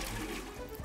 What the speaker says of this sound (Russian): Я слил сейчас в унитаз.